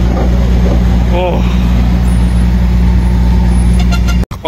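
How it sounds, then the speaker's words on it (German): A truck being unloaded of stones at a roadside building site, with a steady loud engine drone and rumble throughout, a brief knock near the middle and an abrupt clunk just before the end. "Die entladen gerade den LKW mit Stein."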